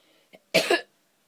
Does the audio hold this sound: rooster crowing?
no